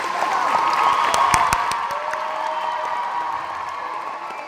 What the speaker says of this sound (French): Oui, on peut applaudir, d'accord.